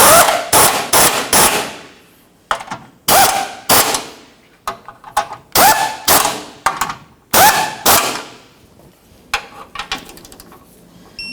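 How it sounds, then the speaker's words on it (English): An impact wrench drives the subframe mounting nuts on a 2003-2007 Honda Accord during a rear transmission mount replacement, firing in loud, close, repeated rattling bursts with short pauses, ending in a few softer taps. "Snug them up, torque those to 33 foot-pounds."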